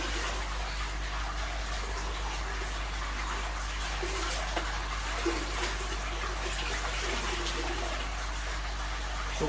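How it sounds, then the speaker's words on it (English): Water runs steadily over a Pondtec pressure filter pad as it is washed out, a close, constant gushing and splashing that holds an even level with no talk. "I'm just going to wash this out"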